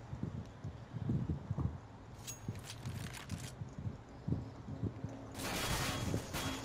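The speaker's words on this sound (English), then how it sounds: "I hear a lot of footsteps, I don't know where from." Footsteps in a competitive 5v5 match of the video game Counter-Strike: Global Offensive, a steady run of soft thumping steps at moderate distance, with brief bursts of noisy hiss over the background.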